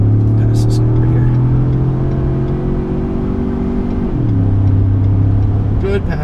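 A 2015 Ford F-150 Platinum pickup with the EcoBoost engine accelerating hard to pass on the road, its engine drone steady and rising in pitch, then dropping as the transmission shifts, heard from inside the cab, loud and continuous.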